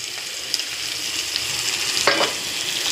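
Onions and potatoes fry in a pan, a steady close sizzle running the whole time with a few brief stirring scrapes and a louder crackle near the end.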